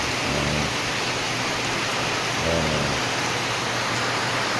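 Steady rain with flooding hisses loudly and evenly throughout, with two brief low rumbles underneath.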